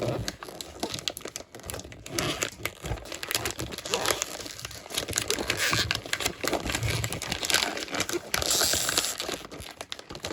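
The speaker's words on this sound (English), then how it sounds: "This plasticky paper doesn't care." Plasticky wrapping paper on a Christmas gift is crinkled and torn open close up, with dense irregular crackling and rustling that builds over the length of the clip.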